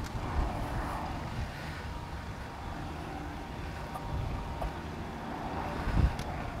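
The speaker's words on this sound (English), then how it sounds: "It wasn't this windy on the day, let me tell you." Steady wind buffets the microphone with a low rumbling roar, continuous and fairly loud, with no talking.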